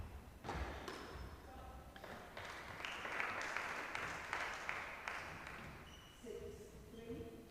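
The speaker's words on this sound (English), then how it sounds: "That shot just applauded by Ali." A squash player's fairly faint clapping for an opponent's shot at a quarter-final of the Scottish Squash Open, a quick run of claps with a few thuds, followed by commentary.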